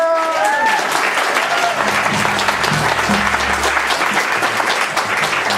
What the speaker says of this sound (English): Let's have a big round of applause for Mr.